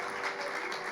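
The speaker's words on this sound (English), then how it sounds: "Thank you for starting the applause" Audience clapping in a lecture hall during a talk on Carnatic music enunciation, a steady dense patter of many hands sustained for about a second at moderate level with no voices.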